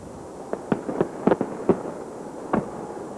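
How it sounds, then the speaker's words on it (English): New Year's Eve fireworks launched from Seattle's Space Needle crack and pop in a loose, irregular series of sharp bursts, some in quick pairs, heard from a distance over a steady crowd hum. "this is the first time in years that fireworks will be launched from the Space Needle"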